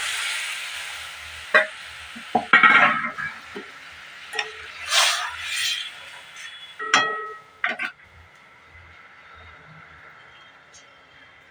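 Masoor dal tipped into a pan of reddened onions fried with garlic, then stirred: a soft clatter and hiss followed by scraping spoon strokes and light clinks, close and moderately loud, with occasional speech.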